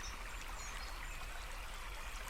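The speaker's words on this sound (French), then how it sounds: "Vous entendez au loin la rivière s'écouler librement." A river flowing freely through a forest of tall trees, a constant soft rushing and trickling wash of water, distant and even, with no voices.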